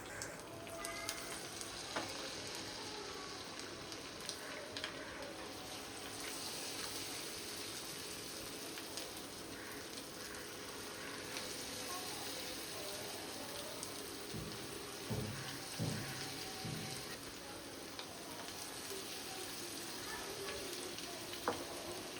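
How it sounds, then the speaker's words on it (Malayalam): Chicken pieces for restaurant-style chicken Manchurian frying in hot oil over medium heat, a quiet, continuous crackling hiss with no break throughout. "ഇനി നമുക്കിത് ഒന്നൊന്നായി ഇട്ട് വറുത്തെടുക്കാം."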